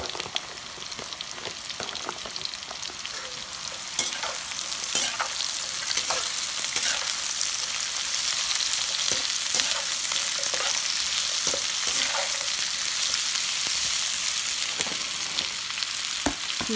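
Onions and bell peppers stir-frying for cashew chicken, a loud continuous close sizzle broken by frequent sharp scrapes and clatters of the stirring utensil, with no voices.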